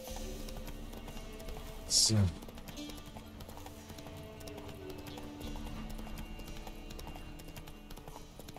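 A horse in The Witcher III trots along a road with rhythmic, quiet hoof clip-clops throughout. A brief whinny or snort comes early on, and someone speaks over the hoofbeats.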